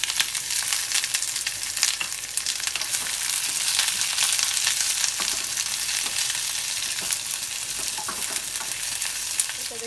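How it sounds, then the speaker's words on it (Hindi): Two thinly sliced onions frying in hot oil in a pan give a loud, continuous sizzle and crackle, close and steady throughout with no talking. "अब एहिमे हम 2टा प्याज पातर पातर खूब पातर काट के लऽ लेलहुँ हाँ। से प्याज दऽ के में भूज लेबै।"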